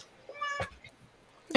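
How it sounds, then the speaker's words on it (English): A pet cat named Oliver gives a single clear, rising meow, close by in a quiet room, with a short rustle and a sharp knock at the end. "Oh, is there a cat?"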